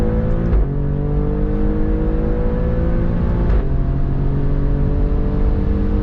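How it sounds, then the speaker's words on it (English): A 2024 Alfa Romeo Stelvio Quadrifoglio SUV engine revs hard and loud, rising in pitch twice with a steady drone between, the front tires straining as they spin. "don't know if you can hear the engine rev up, but it's like spinning the tires."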